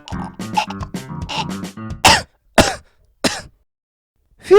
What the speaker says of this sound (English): A piece of pineapple I ate went down my windpipe, but I was able to cough it up.